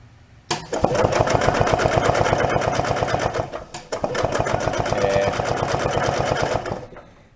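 A barn-find gas golf cart engine is cranked with its carburetor removed during a compression test, a fast, even mechanical chugging heard close and loud in two long bursts with a brief pause between them.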